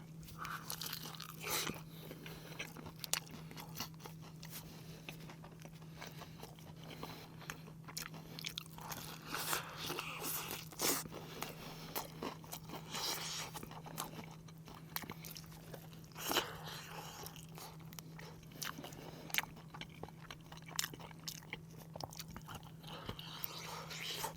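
Crunchy bites and chewing of spicy Nashville-style fried chicken from BHC, a series of close, crisp crunches repeating steadily over a faint constant hum, with no talking.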